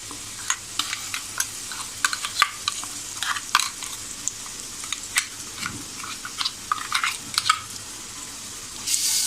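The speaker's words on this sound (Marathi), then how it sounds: "आता आपल्याला हे जे वाटण आहे ते वाटण टाकायचं आतमध्ये." Spiced ground paste stirred and sautéed in oil in a pan on medium heat for a thin vegetable curry, giving steady soft sizzling with repeated scraping and stirring clicks, close by and without talk.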